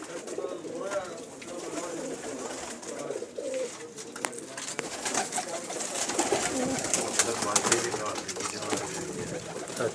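Fancy-breed pigeons coo in soft, repeated throaty calls at a loft, close by and fairly quiet, while other birds chirp and someone talks intermittently underneath.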